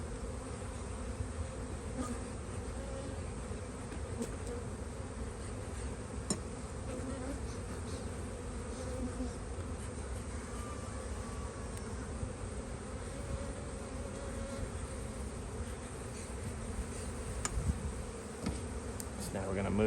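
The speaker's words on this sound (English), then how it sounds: "We smoke the side of the box, pushing the bees back in." Honey bees drone steadily at an opened hive box during a spring inspection after smoke pushes them back inside, a dense continuous buzz close by, with faint voices low beneath it.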